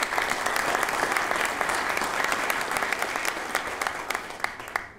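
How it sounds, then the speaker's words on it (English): Applause from a conference audience honoring two organizations at an international governance and ethics conference, a steady dense wash of many hands clapping, fairly near and even throughout, with no talk over it. "Let's also give those two organizations a round of applause"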